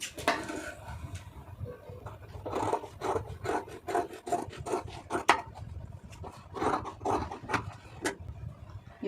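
Scissors cut through blouse fabric in a run of close, rhythmic rasping snips, repeating roughly every half second.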